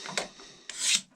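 Utility knife scraping a wooden ramrod to taper it as the rod is slowly rotated, two close, rasping strokes, the second longer and brighter.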